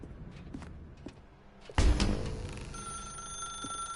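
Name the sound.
telephone ringing in the video game The Stanley Parable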